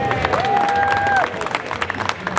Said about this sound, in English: A big applause for my dad.